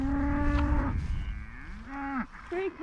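Cattle and calves on a farm low repeatedly, several long drawn-out moos with falling and rising pitch, fairly close and loud against open outdoor background, with no one speaking.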